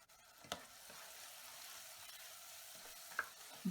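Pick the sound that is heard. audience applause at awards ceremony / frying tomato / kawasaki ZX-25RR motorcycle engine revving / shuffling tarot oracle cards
frying tomato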